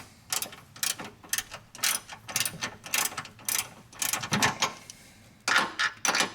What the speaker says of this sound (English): We've got a 3/8 drive with a 1/2 inch deep socket, 6 hex. I'll slip that on there and I'll torque these down.